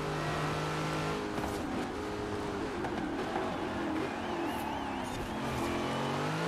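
V8 car engine in the Forza Horizon 4 racing game, a steady loud drone with rising and falling revs and shifting pitch, heard alone without speech.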